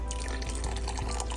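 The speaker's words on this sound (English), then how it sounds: "So add a little water." Water poured into thickened couscous soup in a pot, a short close gurgling splash and trickle with no voices.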